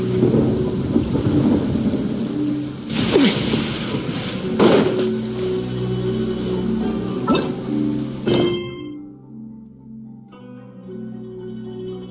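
Thunderstorm with rain in the video game Genshin Impact: steady loud rainfall under several booming thunder cracks that roll out, before the sound abruptly drops to near silence.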